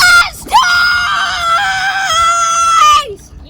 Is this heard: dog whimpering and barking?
no